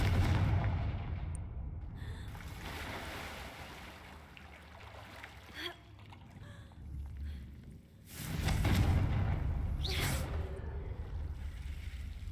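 Confringo fire-blast spells erupt in Hogwarts Legacy: two heavy booming explosions with rumbling tails, one near the start and another around the two-thirds mark, separated by quieter crackling game ambience.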